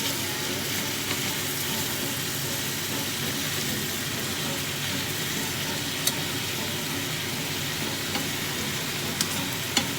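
Tuna fish frying in a pan, being turned: a steady, close hiss of sizzling oil runs throughout, with a few faint clicks of the utensil against the pan.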